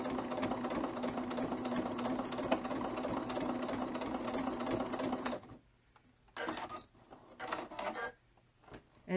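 A Singer Quantum Stylist 9960 sewing machine stitches steadily with a dense mechanical whir for about five seconds, then stops, followed by a few short bursts of stitching.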